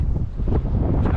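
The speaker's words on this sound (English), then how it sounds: "that wind's strong" Strong wind buffets the microphone at a sandy corner motocross track, a loud continuous rumble with gusty surges throughout and no speech.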